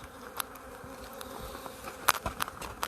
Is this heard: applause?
no